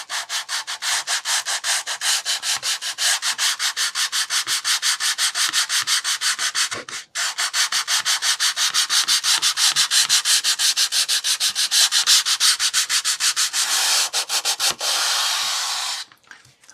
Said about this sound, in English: take this sanding block with a 240 grit on, and I'm just going to sand it all back nice and flush